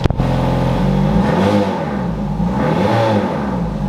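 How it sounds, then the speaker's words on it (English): A Ferrari engine warming up while running rough on one bank idles loudly and close, a steady throaty drone with a wavering, uneven pitch and no talk. "It sounds like it's running on one bank."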